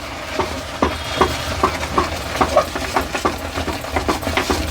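Thick sago and noodle batter stirred by hand in a bowl for vadiyalu, giving a steady rhythm of soft, wet slapping and squelching strokes close up, with no speech.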